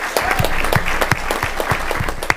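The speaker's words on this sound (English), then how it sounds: "One more round of applause, if you don't mind." A city council meeting audience gives a dense round of applause, many hands clapping together steadily and fairly loud for the whole stretch, with no talk over it.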